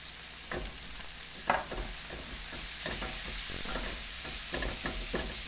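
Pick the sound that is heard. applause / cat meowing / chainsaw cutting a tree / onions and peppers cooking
onions and peppers cooking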